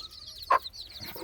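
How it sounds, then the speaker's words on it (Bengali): A chicken clucks once, sharp and close, among baby chicks at a farmyard, with faint chirping and rustling around it. "এই যে মুরগির বাচ্চা"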